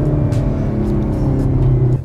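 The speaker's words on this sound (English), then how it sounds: "Some nice pops and bangs. The car sounds really good for a stock exhaust." Hyundai Veloster N with a stock exhaust and a two-liter twin-scroll turbo four-cylinder, running loud and close with a steady low engine drone and a few sharp crackling pops over the top.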